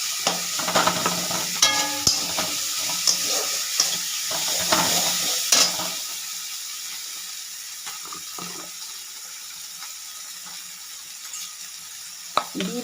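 Ginger garlic paste frying in a pan for a Bengali pomfret curry, a steady soft sizzle with occasional stirring scrapes and clinks, louder and busier at first and then settling into a quieter, even fry.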